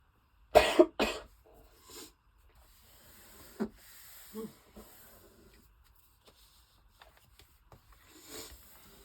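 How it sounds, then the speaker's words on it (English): A couple of sharp, close coughs up front, followed by softer throat sounds and light rustling in an otherwise quiet room. "I'm still coughing."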